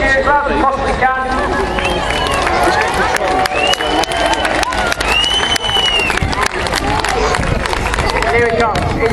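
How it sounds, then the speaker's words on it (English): A large crowd at the Sunderland International Airshow 2015 claps and cheers loudly without letup. The dense applause runs throughout, with whoops rising above it and a voice over a loudspeaker mixed in. "let's give a big round of applause, big cheers, loud as we possibly can"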